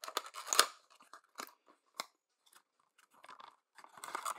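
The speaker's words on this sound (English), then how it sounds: "a trusty pocket knife. Cut open that seal." A pocket knife slices open the seal on a package for a laser training cartridge, giving faint, close, intermittent scratchy cutting and crinkling sounds with short pauses between strokes and no talking.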